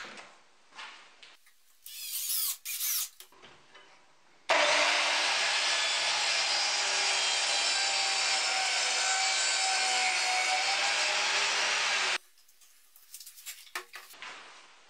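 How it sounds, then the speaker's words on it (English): An upside-down circular saw mounted as an improvised table saw cuts through wood, a loud steady whine lasting about eight seconds, with brief clunks and handling noises before and after. "I improvised a saw table using an upside-down circular saw."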